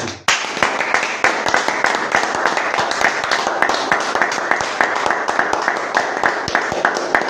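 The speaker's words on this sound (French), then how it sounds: "Applaudissons pour le Seigneur Jésus" A church congregation claps together in steady, rhythmic applause during a worship service, loud and continuous with sharp repeated hand strikes, a voice briefly heard under it.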